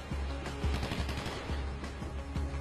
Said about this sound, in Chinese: 我听到枪声了